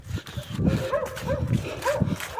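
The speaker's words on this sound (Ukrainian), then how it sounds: "А Тут пси гавкають" Dogs bark and yelp in rapid, overlapping bursts at moderate distance, with a rough, noisy background.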